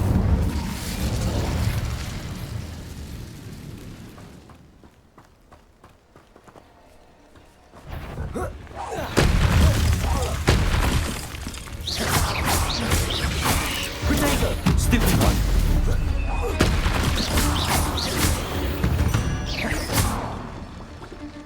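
An Incendio fire spell blasts in Hogwarts Legacy, a loud whooshing, booming burst after a quieter stretch, followed by sustained crackling roars and combat impacts, with no clear talk.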